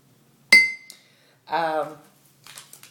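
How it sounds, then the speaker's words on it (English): A spoon clinks against a glass as vinegar is stirred into liquid, a single bright ring followed by a voice speaking, with faint taps trailing off at the end. "Stir it up a bit to make sure it gets all mixed in good"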